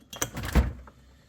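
A home fridge door opens with a short run of close clicks and a soft seal thump lasting about a second, followed by quiet.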